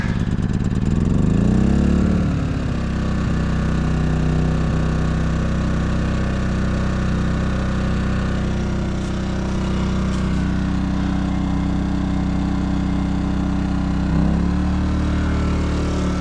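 A small gasoline engine, started on choke with the fuel turned on, runs steadily at a moderate volume and a constant pitch. Its speed dips briefly near the start and a small stumble comes later, with no talking.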